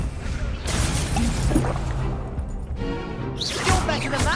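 Confringo blasting spells in the Hogwarts Legacy video game, bursts and crashing explosions with whooshing impacts layered over game effects, loud and repeated across the short stretch.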